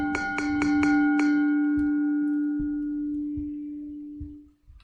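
A bell struck in a video game rings out in several quick metallic hits, followed by one long sustained tone that slowly fades, with low thumps underneath.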